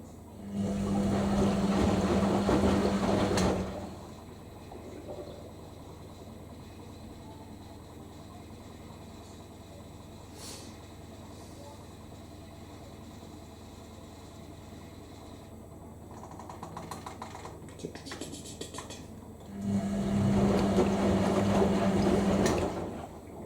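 A washing machine on a short final spin, with a loud whooshing, water-rushing spin burst, a quieter steady hum with faint clicks in between, then the loud rushing spin returning near the end.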